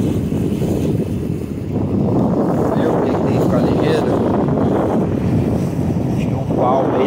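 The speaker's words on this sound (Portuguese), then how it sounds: "Vai desviar o barco." An aluminium motorboat runs along a river at night, its engine drone and rushing water forming a loud, continuous roar close to the microphone, with wind buffeting throughout.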